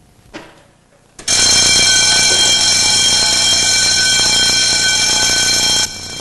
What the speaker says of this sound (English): Oh, that's a fire alarm.